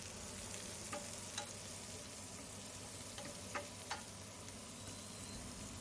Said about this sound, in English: Give that a good stir around.